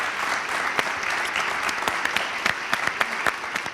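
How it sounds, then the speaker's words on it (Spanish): A live audience at an interview event applauds in a steady, dense wash of clapping. Sharper individual claps stand out near the front. "un fuerte aplauso a Paco Martínez Soria."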